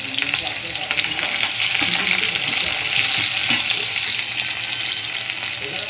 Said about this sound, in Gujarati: હવે નાખી દઈશું આપણે ડુંગળી કાપી લીધી છે. થોડું થોડું હલાવતા રહીશું